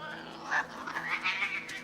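A cat yowls in a scene from the 2006 film The Prestige, a rising, wavering cry in several short swells, moderately faint against a low background.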